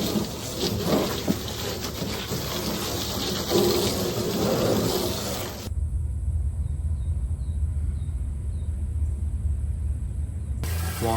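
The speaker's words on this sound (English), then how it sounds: "While I'm waiting for this water to fill" Water runs steadily into a container, a loud rushing flow at first that cuts to a quieter, deeper fill for several seconds before the louder flow resumes.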